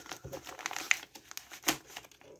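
Crinkly plastic packaging rustles and crackles in short bursts as it is handled and pulled open up close.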